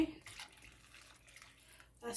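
Water poured into a 2.5-cup measuring cup while making kimchi cabbage soup with meatballs, a soft continuous trickling splash close by that swells louder at the end.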